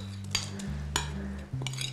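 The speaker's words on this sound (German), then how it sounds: "das rühren wir jetzt alles schön um" A spoon stirring sauerkraut soup with fried tomatoes and onions in a pot, giving a few soft metallic clinks and scrapes at irregular intervals over a low steady kitchen hum.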